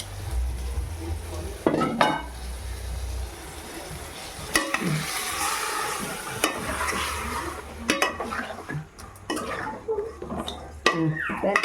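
Chicken liver frying in a pot for a country-chicken curry, stirred with a utensil: continuous close sizzle under repeated scraping and clinking strokes against the pot, with no talk.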